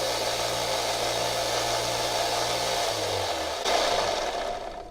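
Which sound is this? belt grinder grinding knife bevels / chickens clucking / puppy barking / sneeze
belt grinder grinding knife bevels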